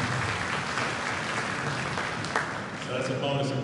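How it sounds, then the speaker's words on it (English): A concert audience applauds in a hall before a composer premiere, broad sustained clapping filling the room at an even level, with some voices mixed faintly underneath. "So that's a bonus applause"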